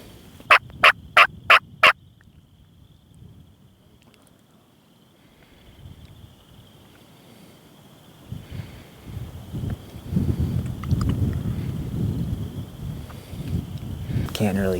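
A wild turkey gobbles in a quick burst of about five rapid, loud notes at the start, on a hilltop during spring in Iowa, followed by quiet woodland ambience and rustling that grows louder.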